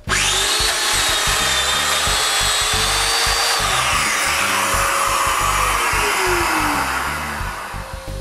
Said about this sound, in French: Il ne reste plus qu'à utiliser mon gabarit puis à percer les mortaises.